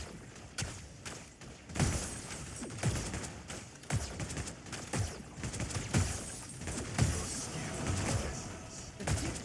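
Repeated grenade blasts in the game Predecessor, a string of sharp thumping explosions fired in quick succession, loud and close, with a voice talking over them.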